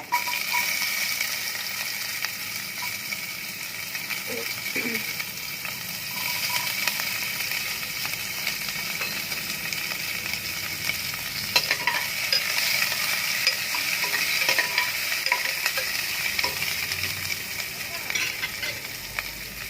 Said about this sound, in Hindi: अब तेल थोड़ा गर्म हो गया तो हम लोग थोड़ा सा गार्लिक इधर में डाल देंगे। अब ऑनियन डालेंगे,